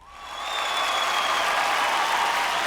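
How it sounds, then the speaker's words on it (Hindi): An audience applauds for Madhuri at a stage show. The clapping swells within half a second into loud, dense, sustained applause from a large crowd. "एक बार जोरदार ताली हो जाए फॉर माधुरी मैम"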